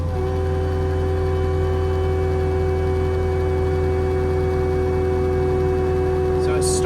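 A tractor running a diamond disc mulcher head hums loud and steady at close range, a continuous mechanical drone with a constant whine, with a brief burst of higher noise near the end.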